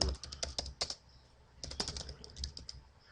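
Rapid clicking keystrokes on a computer keyboard in bursts, with a short pause in the middle, close and fairly quiet.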